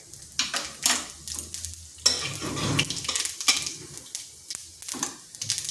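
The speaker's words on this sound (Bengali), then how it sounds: "ফোড়নে দিচ্ছি শুকনো লঙ্কা, কালো জিরা, সামান্য কালো জিরা দিয়েছি, আর দিচ্ছি গোটা জিরা।" Dried red chillies, nigella seeds and whole cumin crackle and sizzle in a spoonful of hot oil in a kadai, with spoon scrapes and stirring clatter in bursts and no talk.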